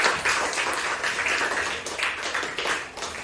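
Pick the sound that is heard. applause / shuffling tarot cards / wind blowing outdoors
applause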